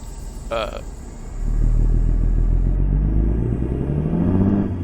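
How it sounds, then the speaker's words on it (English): A deep, steady Kenworth T600 truck engine with a Cummins N14 sound rumbles in American Truck Simulator, swelling louder after a moment, droning evenly with a low growl throughout; a short tonal blip sounds early on. "This engine sounds really good"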